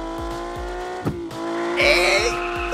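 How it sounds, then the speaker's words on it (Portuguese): A V6 race car engine in a car dealership video game holds a steady tonal drone with rhythmic low pulses, then rises into a louder, harsher rev near the end; a voice briefly exclaims midway. "Isso aqui parece um V6, velho. Ou um 6 cilindros"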